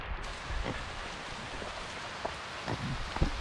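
Heavy rain pouring down outdoors on a farm, a dense steady hiss with scattered louder drops and patters, no voices.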